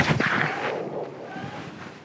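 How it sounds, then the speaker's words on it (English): Wind gusting across an outdoor disc golf course, a steady rushing roar buffeting the microphone, strongest at the start and easing a little, with no talk. "I think it's just the wind."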